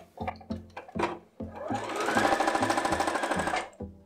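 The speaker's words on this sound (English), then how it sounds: "So we take this one with this one and we sew it together" A sewing machine with a 1/4 inch foot joins quilt pieces. A few short clicks come first, then a sustained, even whirring burst of fast stitching, then several more brief taps, all close and clear.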